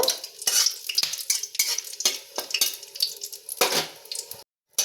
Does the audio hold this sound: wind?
no